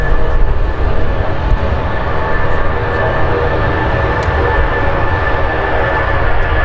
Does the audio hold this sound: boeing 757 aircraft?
yes